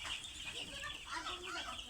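Young chicks, four days old, chirping and clucking as a dense continuous chorus inside a poultry shed of about a thousand birds, steady and moderately loud with no talk.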